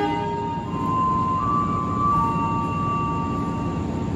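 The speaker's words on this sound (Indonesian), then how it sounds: "Yang melintas langsung itu adalah kereta api Taksaka dari stasiun Gambir tujuan stasiun" Taksaka passenger train, running from Gambir toward Yogyakarta, passes straight through a station with a steady, loud rolling rumble and a sustained tonal whine or horn-like note held over it, with no voices.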